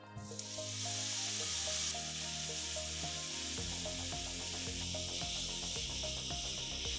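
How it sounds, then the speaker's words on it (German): Mixed ground meat frying in oil in a pan for Korean bibimbap, a loud, continuous sizzle and hiss that starts abruptly and is broken by scraping and stirring sounds. "Mischtes Hackfleisch in Öl anbraten."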